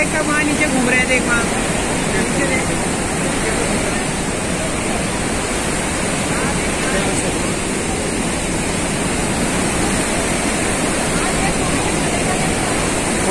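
Heavy flowing water at Sharda Barrage: a constant, loud broadband rush with no pauses, steady and close for the whole stretch, with faint voices briefly under it.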